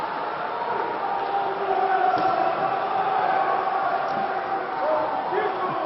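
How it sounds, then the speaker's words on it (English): Crowd noise rises from a dodgeball stadium at a women's world championship match in Cancun, a steady, energetic roar of spectators under a commentator's talk, with a few faint thuds from play. "Still got a loud crowd in the audience."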